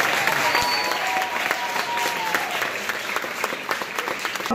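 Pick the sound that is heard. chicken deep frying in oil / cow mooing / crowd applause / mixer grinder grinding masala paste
crowd applause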